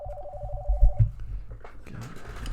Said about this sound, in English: Damn phone.